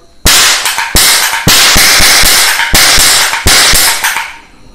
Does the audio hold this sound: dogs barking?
no